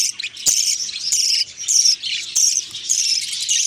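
Budgie chicks chirping in a breeding cage: continuous high-pitched, close chirps and squeaky calls in overlapping bursts with a few brief clicks.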